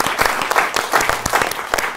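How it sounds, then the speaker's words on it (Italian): Applause at an awards ceremony, a short dense burst of clapping from a crowd, close and fairly loud. "Facciamo anche un applauso."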